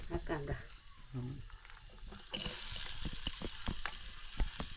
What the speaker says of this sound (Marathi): लसणाची फोडणी